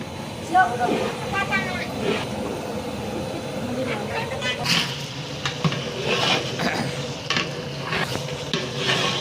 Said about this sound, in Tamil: எண்ணெயில் தக்காளி போகும்போதே நம்ம கொஞ்சம் உப்பையும் போட்டுடலாம் அப்போ தான் தக்காளி நல்லா வதங்கிடும்